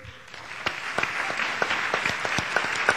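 An audience at a short-story reading applauds after an author is announced, with scattered, distinct claps in an uneven rhythm, modest in volume and fairly sparse, with no voices over it.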